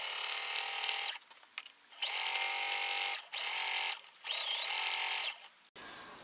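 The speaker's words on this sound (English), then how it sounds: "I am going to sew a 1/4 inch away from the edge" A domestic sewing machine stitches a tote bag in several sustained bursts of fast, even whirring, separated by brief stops. No voices.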